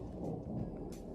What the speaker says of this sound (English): And I found a nice dry spot to pitch my tent. First thing, and there's thunder.